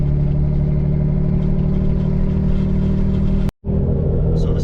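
A loud turbocharged BMW E36 sedan engine rumbles steadily at close range, with a deep, constant drone that cuts out abruptly for a moment before resuming.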